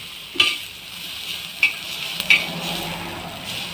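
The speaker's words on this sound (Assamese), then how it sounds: "পানীখিনি শুকোৱালৈকে ভালদৰে ভাজি লৈছোঁ" Elephant apple pieces fry over a low flame in a pan, with a soft steady sizzle while a spoon stirs and scrapes, giving three or four sharp clinks against the metal.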